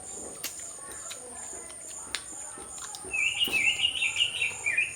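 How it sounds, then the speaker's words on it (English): Birds sing outdoors, with a bright warbling phrase rising clearly near the end after a few quieter chirps and small clicks earlier. "wow, the birds are singing for us."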